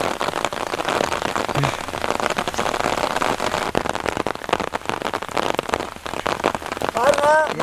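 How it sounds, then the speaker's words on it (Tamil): Steady, dense rain falls outdoors beside an open-air cooking spot, hissing and pattering loudly throughout. A voice speaks briefly near the end. "பாருங்க, மழை வருது."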